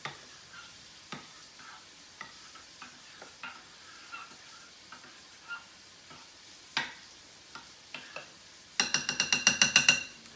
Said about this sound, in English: just gonna stir up my wet ingredients, get that tomato paste mixed in